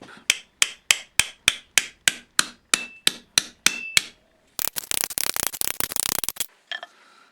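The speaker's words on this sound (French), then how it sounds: "maintenant, je vais remettre la tôle à plat" Sheet metal is hammered flat with about fourteen sharp, ringing blows at a steady rhythm. A few seconds of harsh scraping and rasping on the metal follow, all loud and close, with no talking.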